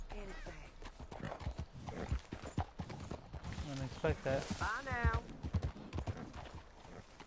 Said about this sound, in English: You got a good horse there.